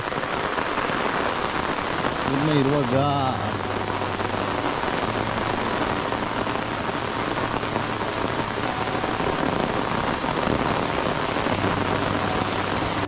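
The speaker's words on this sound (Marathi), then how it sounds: "परत आला पाऊस" Steady, heavy rain pours down throughout in a Konkan forest, a dense hiss of drops on surfaces, with a few brief spoken words near the start.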